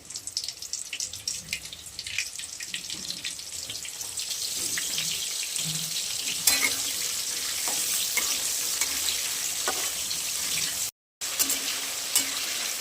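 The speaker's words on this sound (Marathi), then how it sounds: "आता आपण थोडं थोडं करून तळून घेणार आहोत." Mushrooms frying in a pan for a spicy mushroom dish, a steady close sizzle with occasional stirring scrapes and a brief dropout near the end.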